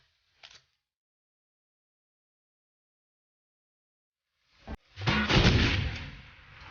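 Grenade blasts in the Shadowrun: Hong Kong video game: a brief sharp pop, several seconds of silence, then a loud booming explosion with a heavy rumbling tail that fades slowly.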